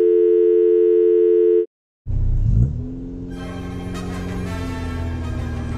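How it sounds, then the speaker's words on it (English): A telephone tone sounds steadily for under two seconds during a phone call in a Lego SpongeBob animation, then cuts off, and a low rumbling engine-like noise with layered tones follows. "time to make a phone call"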